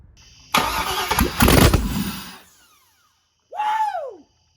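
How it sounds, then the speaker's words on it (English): Swapped LS V8 in a Jeep YJ briefly firing on brake cleaner, a short loud cranking and catch that sputters out, then a quick second burst after a pause. "you should be able to get it to pop off on some brake clean"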